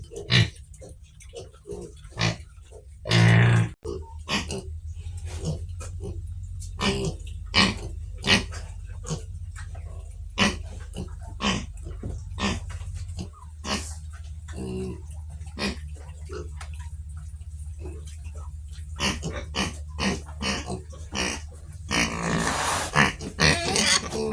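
Native pigs grunting in their pen: many short, scattered grunts and snorts at close range, some louder bursts, with quieter stretches and a low background rumble throughout.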